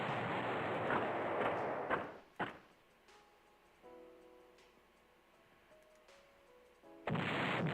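Artillery fire in the World War II strategy video game Panzer General: two sharp booms in quick succession, then quieter ticking interface sounds, and another loud burst at the end.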